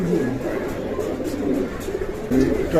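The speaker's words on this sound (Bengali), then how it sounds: "এই এসে পড়ছে সাত নাম্বার কবুতর" Pigeons cooing close by, soft throaty calls repeating amid background chatter.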